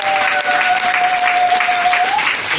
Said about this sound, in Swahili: Pigia Bwana makofi makubwa